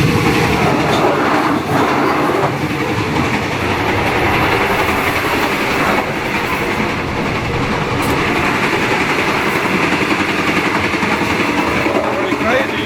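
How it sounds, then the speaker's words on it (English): Inside a second-class air-conditioned passenger train of three carriages travelling through Thailand, a continuous rumble of wheels on rails rolls on with faint clickety-clack and occasional squeal, loud and steady throughout. "There's 3 carriages on this train."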